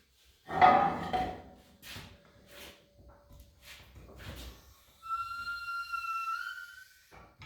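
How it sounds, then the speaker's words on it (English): A jack lifting a Ford Model A roadster frame makes a high, thin whistling squeak that rises and holds near the end, after a few faint scrapes and clicks, fairly quiet overall. "Ah, the whistling jack. Whistling jack down the hill."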